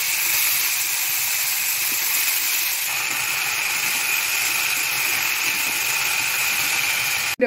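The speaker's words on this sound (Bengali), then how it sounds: "এই যে রসুন আর লঙ্কাটা তেলটার মধ্যে দিয়ে দিলাম, দিয়ে তারপরে শাকটা দিয়ে দিয়েছি" Dhenki shak greens fry in oil with garlic and chili, giving a loud, unbroken hiss and sizzle that ends in a brief knock.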